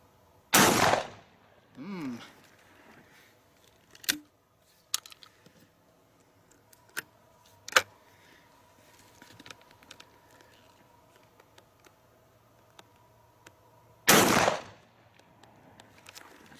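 An Akdaş 112 single-shot 12-gauge break-action shotgun fires slugs outdoors, two loud sharp blasts at the start and near the end with fainter handling clicks and distant pops between them.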